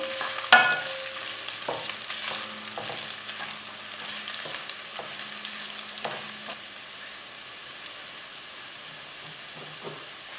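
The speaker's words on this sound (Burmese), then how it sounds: "စီကြက်သွန်ဖြူနဲ့ကျင်းလေးတို့ကိုအိုးလေးထဲထည့်ပြီးတော့မှ မီးပူချိန်ပြင်းပြင်းလေးနဲ့အနက်မွေးလာရုံကိုကြော်ပေးပါမယ်ရှင်" Garlic and ginger fry in a pot over high heat, giving a steady sizzle with occasional spoon scrapes and stirring clicks, close and without talk.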